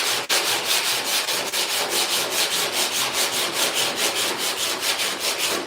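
Close, rhythmic back-and-forth scraping as 80-grit sandpaper works body filler on a car fender, each stroke a regular rasp repeated evenly with no talking.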